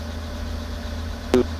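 A Robinson R44 helicopter engine warms up at 70% throttle with a steady low droning hum, plus one brief knock near the end.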